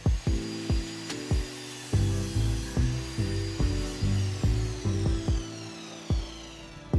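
A jigsaw cuts through a wooden board for an herb tray in a series of short, rhythmic bursts, each stroke starting sharply and then fading, close and moderately quiet.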